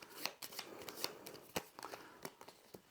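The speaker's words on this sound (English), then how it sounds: "we need to shuffle the cards" Playing cards for the board game Nestlings being shuffled, a run of crisp riffling bursts and soft snaps, close and alone.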